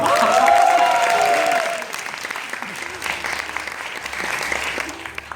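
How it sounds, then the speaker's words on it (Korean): A concert audience at a live encore applauds as a ringing musical note fades out. The applause then carries on as a dense, even wash of clapping from a crowd. "저 친구한테 박수 줘야 돼요"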